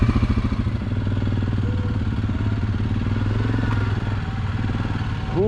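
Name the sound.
ATV engine riding on trails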